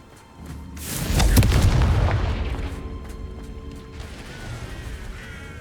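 A Confringo spell explosion in Hogwarts Legacy: a loud, deep boom swells and crashes for about a second, then decays into a long rumbling tail over steady background game music.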